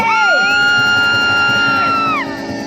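Crowd at an outdoor village festival cheering and whooping loudly at close range, sustained high shouts and yells blending together for a couple of seconds before easing off.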